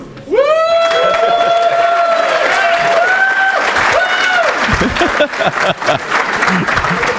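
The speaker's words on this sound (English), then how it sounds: "No applause, please." A conference audience at a hacking and security event greets the speaker with sustained loud clapping and cheering, with a few whistles or whoops near the start.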